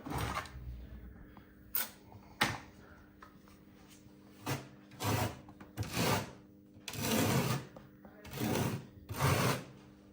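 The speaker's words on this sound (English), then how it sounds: "we get a nice even spread of adhesive. I want to hear this sort of grinding noise against the wall" Trowel spreading tile adhesive across a wall while tiling around pipes, with repeated gritty scraping strokes, each about half a second long, coming in an irregular rhythm, close and fairly loud, with no talk.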